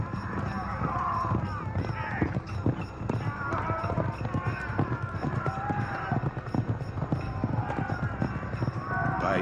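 Drumming hooves of many horses pulling charging Assyrian chariots thunder together beneath a narrating voice, a dense rumbling charge with occasional whinnies.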